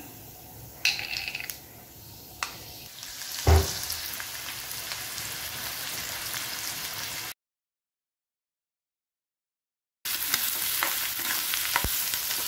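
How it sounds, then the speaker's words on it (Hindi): Carom seeds and fenugreek seeds frying in oil with finely chopped onion, a steady crackling sizzle with a few sharp pops and a spatula knock, a silent gap midway, then the frying resumes. "मैं इसमें थोड़ा सा अजवाइन डाल दूंगी पहले फिर मेथी दाना"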